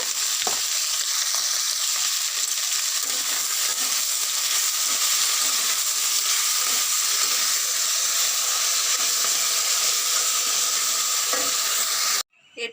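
Potatoes sautéing in a hot pan for a Bengali rohu fish curry, a loud continuous close-up frying hiss with bubbling and stirring throughout, cutting off abruptly near the end.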